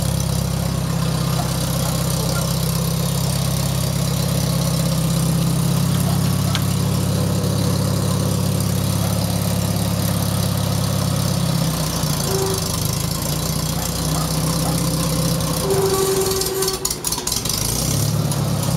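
A 1973 IH Farmall 140 tractor engine, still a little cold, idles close by with a steady low rumble and rhythmic knock, and the note shifts slightly partway through with a brief clatter near the end.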